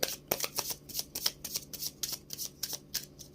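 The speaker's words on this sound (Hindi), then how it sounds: "Okay, one last shuffle" An oracle card deck is shuffled by hand, with quick, rhythmic papery riffles repeating at close range and no talking.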